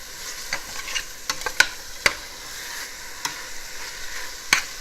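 Chicken cooking slowly in a pan and being stirred, with a soft steady sizzle broken by a few sharp scraping clicks from the utensil. No one speaks.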